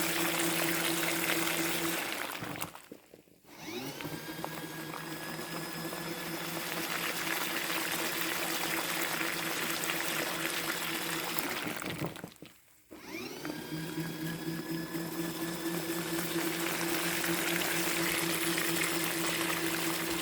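A folding portable mini washing machine churns clothes in water with a continuous motor hum and sloshing, stopping briefly twice as the drum reverses before whirring back up.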